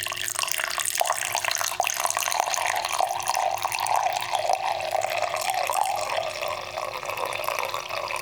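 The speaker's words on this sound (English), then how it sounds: "And just pouring this in here like so." Coffee pours steadily into a cup, a close, continuous liquid trickle with a light splashing texture that lasts several seconds and fades slightly toward the end.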